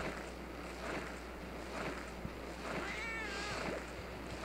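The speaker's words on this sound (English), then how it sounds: "The cat just popped out of the wall." A cat in Monster Hunter 4 Ultimate meows several times, short and fairly soft cries repeating over a low game background.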